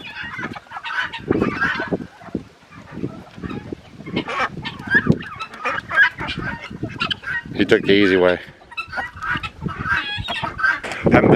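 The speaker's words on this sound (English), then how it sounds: "Good morning, ducks." Ducks honking and quacking around a chicken run on a cold morning, calls repeating in loose bursts close by, with someone talking over them at times.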